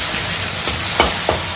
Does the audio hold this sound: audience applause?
no